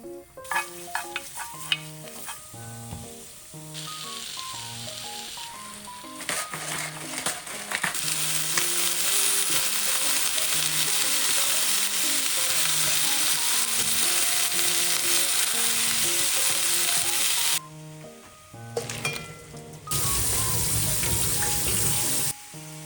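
Minced garlic frying in a pan produces a loud, dense sizzling hiss that starts after a few seconds and continues steadily, set against background music.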